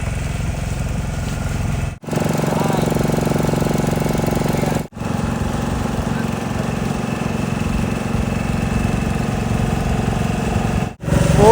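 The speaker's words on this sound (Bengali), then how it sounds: "এদিকে দেখুন প্রচুর ট্রলার রয়েছে, মাছ ধরার ট্রলার" Fishing trawler engines at a fishing harbour near Bagda Beach, Odisha: a loud, continuous diesel throb and chug heard close, broken by a few brief cuts, with no clear speech.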